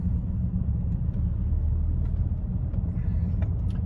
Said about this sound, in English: we're in the 2005 Mercedes C230 with the 6-speed manual, so I figure we go out for a little kind of putt around town